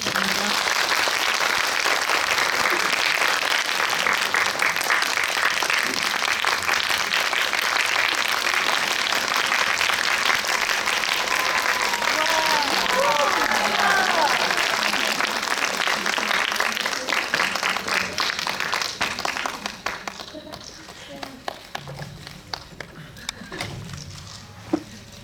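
A cinema audience at a Lotte Cinema World Tower screening Q&A gives sustained, dense applause that rolls on steadily for about twenty seconds and then thins out into scattered claps, with faint voices underneath.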